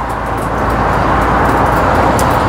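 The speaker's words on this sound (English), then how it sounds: "Unleash the full power of that Gardner engine." An Atkinson bus with its Gardner engine at full power, a steady loud diesel roar with gear and road noise heard close up from inside, building slightly and holding constant.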